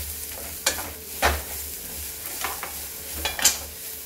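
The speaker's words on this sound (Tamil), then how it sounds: "இவ்வளோ புளி போடுங்க. எல்லாம் சேர்த்து நல்லா வதக்குங்க." Ridge gourd and tamarind sautéing with coarse salt in a pan, a low steady sizzle broken by several sharp spoon scrapes and stirs, close by with no voices.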